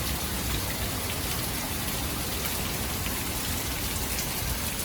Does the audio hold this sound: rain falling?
yes